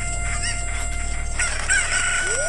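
A cuckoo, the chicken of Zelda: Ocarina of Time, clucks and crows in a loud, game-synthesized burst over a steady humming background, a rising squawk closing out the short stretch.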